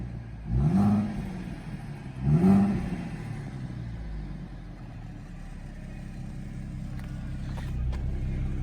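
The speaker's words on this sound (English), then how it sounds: "This is the stock exhaust." A 2017 Ford Mustang V6 with stock exhaust revs twice in quick bursts, rising and falling, then settles into a steady low idle rumble, fairly close.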